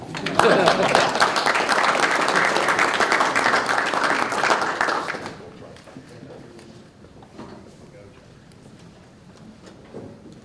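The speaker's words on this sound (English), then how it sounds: "Now you can clap." A county commission meeting audience claps after a voice vote, dense applause filling the room for about five seconds before dying away into quiet murmurs and scattered small noises.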